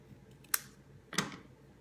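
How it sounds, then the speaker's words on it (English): Card paper is cut at an angle for a Christmas card, two crisp, close snips about half a second apart with quiet pauses between. "Then I'm gonna angle cut this."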